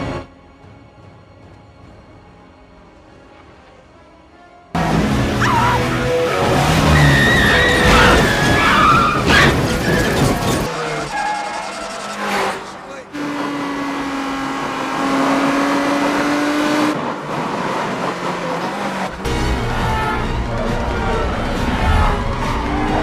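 Cars roar and skid with squealing tires in a loud, busy chase scene, engines revving amid abrupt cuts and dramatic background music.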